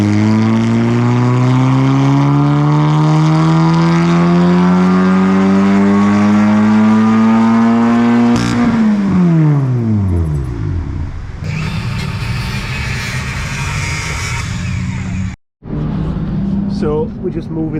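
A race car engine revs on a dyno, its harmonic whine climbing steadily in pitch over several seconds before dropping sharply off, then rumbling at lower revs with a brief cut and a short final rev.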